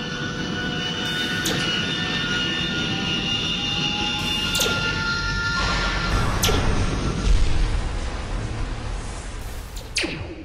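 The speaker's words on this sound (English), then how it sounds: "you can start the engine" An engine powering up in the space station game Goonstation, a loud, steady mechanical roar with sweeping tones and a few sharp rising whooshes that swell toward the end.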